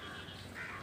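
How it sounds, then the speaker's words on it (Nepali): A single crow caws once, a harsh drawn-out call fairly close against quiet background, with no talk. "काग चाहिँ यसरी कराउँदा"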